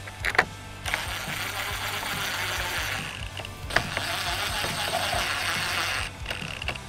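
Two 10 mm bolts being tightened from behind while a grille is installed on a Toyota RAV4 TRD Pro, giving a steady clicking, ratcheting mechanical noise that runs through most of the stretch with a few short breaks.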